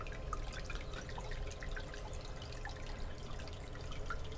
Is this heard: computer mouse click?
no